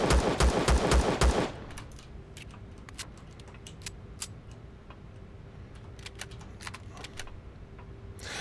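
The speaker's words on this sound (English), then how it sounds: "I got my pistol for shooting through this stuff." A pistol fires in quick succession in the sci-fi survival game Empyrion Galactic Survival, several loud sharp shots packed into the first second and a half, followed by quieter clicking and faint ticking game sounds.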